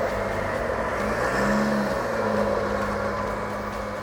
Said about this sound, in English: Just give it a bit of a rev.